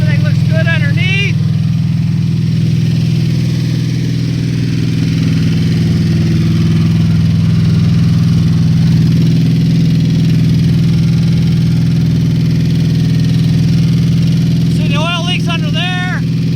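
A Chevy 350 V8 in a 1948 Chevy truck on an S10 frame idles during its break-in, a loud, steady, low rumble that never changes, with people talking briefly over it at the start and end.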